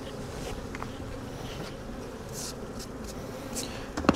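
Honey bees buzz around a beehive frame, a continuous close droning hum with individual bees swelling louder as they fly past, with no voices.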